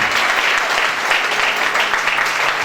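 A church congregation claps and cheers for the Lord, a dense continuous roar of applause filling the room at high volume from start to finish.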